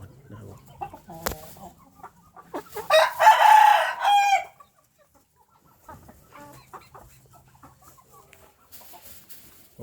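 At a Thai chicken farm, a single rooster lets out one loud, ringing crow that lasts about two seconds, while faint clucks and scattered farmyard noises fill the quiet before and after.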